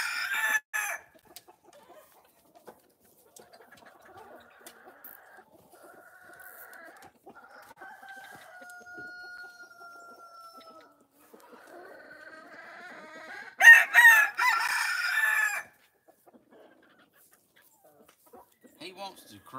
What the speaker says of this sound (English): He wants to crow, he just ain't got nothing.